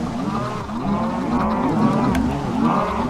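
Cows mooing in the Minecraft video game, overlapping low drawn-out moos from several animals in an enclosed chamber, loud and continuous with no talk over them.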